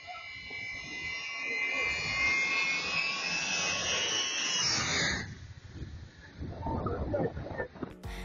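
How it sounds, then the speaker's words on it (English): A Ukrainian Air Force Airbus A319 jet makes a very low pass, its loud roaring whine swelling up close and then dropping away, with rumble and some crowd noise trailing after. "This huge plane from the Ukrainian Air Force performs an incredibly low pass."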